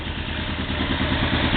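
A Yamaha Venture motorcycle engine idles during a carburetor sync, a steady, close, loud mechanical chugging with a light clattering rhythm throughout.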